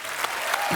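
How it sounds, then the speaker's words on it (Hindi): A studio audience on a Hindi comedy talk show bursts into applause for a guest, a brief, dense wash of many hands clapping at once. "सनी के लिए जोरदार तालियां।"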